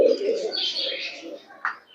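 Pigeons coo softly inside a loft where a pair of squabs has hatched, low murmuring calls mixed with faint chirps and rustling, close by and steady before a brief brighter call near the end.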